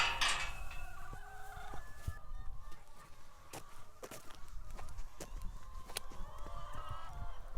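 Hens in a farm flock on an organic egg, vegetable and suckler beef farm, clucking and calling intermittently at moderate distance over steady outdoor background noise, with no talking.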